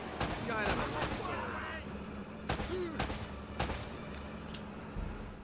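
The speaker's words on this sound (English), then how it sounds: "But first you have to shoot them because they come around and shoot at you." Gunfire in the video game Uncharted: Drake's Fortune: several sharp separate shots cracking out at irregular intervals during an ambush, loud and close, with faint game sounds between them.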